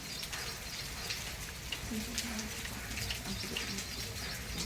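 Heavy monsoon rain falling steadily outdoors near garden plants, a dense continuous hiss of drops on surfaces throughout, fairly loud and unbroken, with no voices over it.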